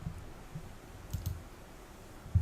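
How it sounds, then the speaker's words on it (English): A few soft, faint computer mouse clicks tap out at irregular intervals against a quiet room background, with a slightly louder click at the very end. "I'm going to click on"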